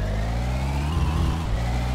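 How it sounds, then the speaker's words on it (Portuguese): A car in My Summer Car pulls away with the engine revving up, a steady close low drone rising and wavering as it accelerates, with no talk over it. "Baixar o freio de mão e acelerar."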